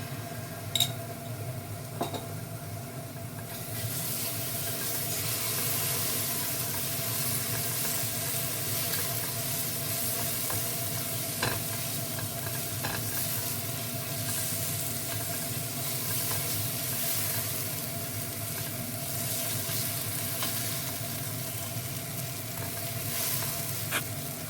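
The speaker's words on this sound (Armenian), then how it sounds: "լավ տապակվեց սոխը, տոմատի մածուկը և կարմիր պղպեղը" Onion, tomato paste and red pepper fry in a pan for a soup-style solyanka, giving a steady, loud, close sizzle that runs throughout, with occasional faint clinks of a utensil.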